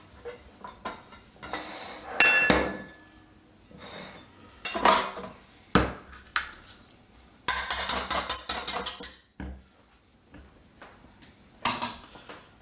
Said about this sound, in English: I'm going to take my bowl off.